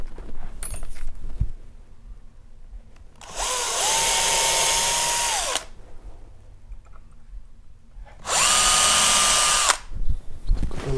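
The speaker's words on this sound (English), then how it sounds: "Little pilot holes." A power drill boring small pilot holes for stair rods at the edge of a stair carpet, two separate bursts of steady whining drilling about two seconds each, close and loud with quiet handling between.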